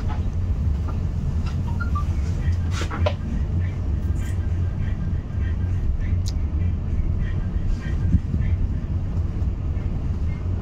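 Interior of the Batu Raden Express passenger train in business class, a constant low rumble and clatter of wheels on track, loud and steady throughout, with scattered faint squeaks and clicks.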